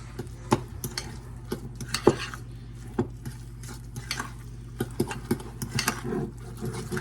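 Monterey Jack cheese being stirred into a mixture in a pot or bowl: a spoon scrapes and clinks in an irregular rhythm, with a sizzle running steadily underneath.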